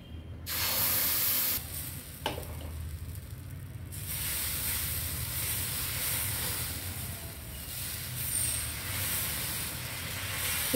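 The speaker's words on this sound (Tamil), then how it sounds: "லைட்டாக எண்ணெய் மட்டும் தெளித்து விட்ருங்க." Oil hitting a hot dosa griddle, a sharp spray burst at the start that settles into a long, steady hiss, close and continuous, with a few small clicks and no talk.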